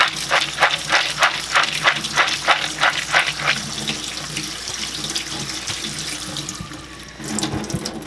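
Tap water pours steadily into a crock pot holding beans, first splashing in rapid rhythmic pulses, then settling into a smoother continuous gush, close and loud with faint clunks near the end.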